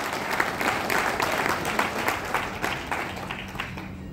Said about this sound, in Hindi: तो एक बार जोरदार तालियां राहुल और यामिनी के लिए।